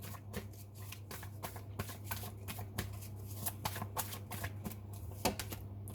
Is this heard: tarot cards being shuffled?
yes